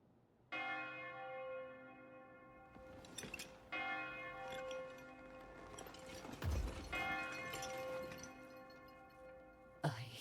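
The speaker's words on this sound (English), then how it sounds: "I hear bells." Church bells ring out in a video game, several resonant struck tones entering one after another and sustaining with long humming overtones, mixed with a few crashing impacts and no speech.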